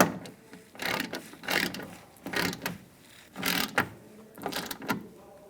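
Socket ratchet tightening bolts on the interior cargo door handle of a Ford E-350 Super Duty van, several close bursts of rapid clicking separated by short pauses, loud and alone.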